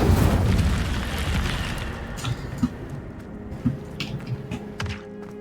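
Spell casting effects in the video game Hogwarts Legacy: a loud whooshing burst up front, then a series of soft thumps, pops and crackling impacts spaced irregularly over quiet magical ambience.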